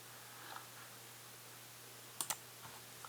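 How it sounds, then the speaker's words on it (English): A few scattered computer keyboard keystrokes click faintly over a steady low hum, with a quick pair of sharper taps near the end and otherwise long quiet gaps. "Let's type it in here."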